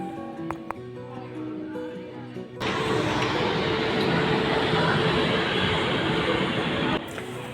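A train runs in toward Patna Junction, heard from on board: a quieter stretch of cabin sound gives way to a loud, steady broadband rumble that holds for several seconds before easing at the end.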